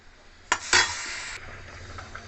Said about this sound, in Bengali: ভালো করে একটু মিষ্টি আমের মধ্যে ঢোকার অবধি একটু ফুটিয়ে নেবো ভালো করে